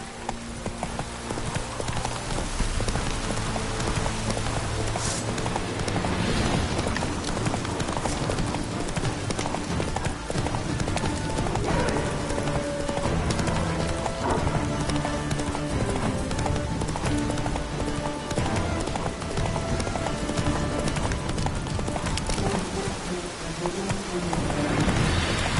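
Horse hooves gallop steadily in The Witcher 3 on PS5, a fast continuous clip-clop under a dense game soundtrack and ambience, with faint buzzing insects mixed in throughout.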